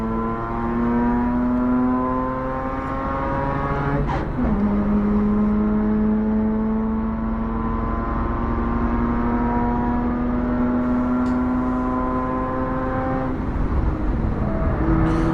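Race car engine accelerating onto the main straight of a wet racetrack, a loud steady engine drone with rising pitch through the gears and a brief shift near the start, running continuously and close throughout.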